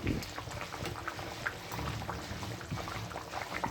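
Steady, soft bubbling of water boiling with potatoes in a pot, close and continuous.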